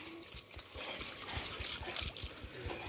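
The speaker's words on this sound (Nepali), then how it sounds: "ठुलो आयोलाई पनि पानी पार्नु त अलिकति।" During a bath in a home courtyard for the Dashain festival, water is poured and trickles and splashes in a soft, continuous stream, faint and recorded from a moderate distance, with low background voices.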